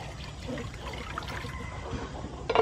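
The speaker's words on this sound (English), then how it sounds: "Add some water." Water is poured into a cooking pot holding tomatoes for a squid and tomato dish, a faint trickle under kitchen noise that swells into a louder splash at the end.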